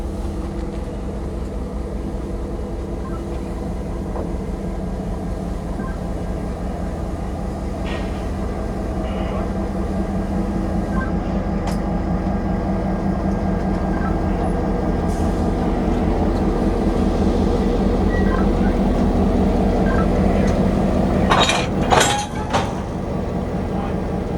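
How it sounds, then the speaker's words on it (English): A locomotive rumbles steadily at a railcar facility, a continuous low engine drone throughout with a few brief clanks and knocks near the end. "This locomotive is named after Aaron's mom here."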